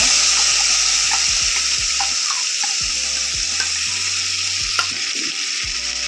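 Tempering for a leafy greens sambar sizzles loudly and steadily in hot oil, with faint regular low thumps and a few small clicks beneath the hiss.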